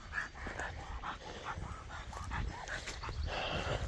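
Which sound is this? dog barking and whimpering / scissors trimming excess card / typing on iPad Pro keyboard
dog barking and whimpering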